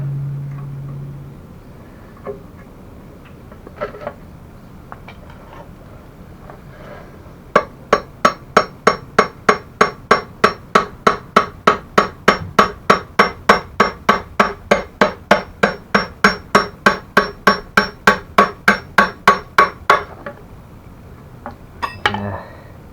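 Front end parts being assembled, with a spacer driven out by hammering: a long run of about thirty sharp, evenly spaced metallic hammer blows, close and loud, after a few scattered taps and clinks.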